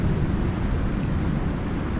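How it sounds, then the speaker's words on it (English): A thunderstorm rages in the survival game Icarus: dense, continuous rumbling thunder mixed with heavy rain, loud and steady throughout with no voices. "Let me pay attention to the storm."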